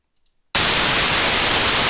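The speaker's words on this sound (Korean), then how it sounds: "화이트 노이즈는" White noise generated in Audacity bursts in abruptly after a half-second of silence and holds as a loud, flat, steady hiss to the end.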